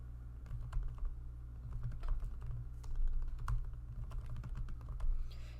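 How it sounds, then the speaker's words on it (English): Steady clicking of keys on a computer keyboard, quick irregular taps close by, with a low hum underneath and no talking. "choose the text option and then start typing your text in this text box"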